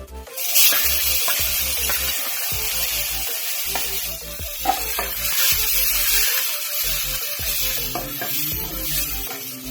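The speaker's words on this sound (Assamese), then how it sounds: "পিঁয়াজখিনি অকণমান ৰঙচুৱা হোৱালৈকে ভাজিব লাগে" Oil sizzles and crackles steadily as onions fry with raw green chillies, with occasional scraping of a spoon in the pan, close and continuous without any talking.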